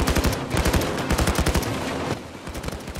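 Rapid bursts of gunfire crack in dense volleys during a Payday 2 heist shootout with snipers, loud and close, a rhythmic pulse of shots that thins and eases near the end.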